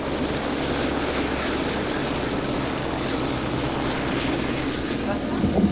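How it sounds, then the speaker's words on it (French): A steady police helicopter rotor drone approaching over an ocean beach fills the scene, constant and fairly loud, with voices faintly underneath. "D'ailleurs, l'hélico de la gendarmerie approche."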